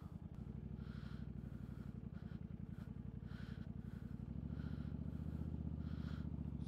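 A motorcycle engine running steadily nearby, with a fast, even pulsing beat that shifts to a slightly rougher, fuller tone partway through as it rides off around a neighborhood, with no talk.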